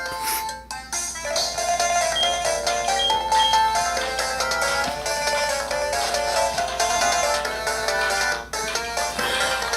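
Electronic ringtone chiming from a phone in Pokemon SoulSilver, a bright looping chiptune melody with steady repeating notes, fairly loud and alone, with no talk over it.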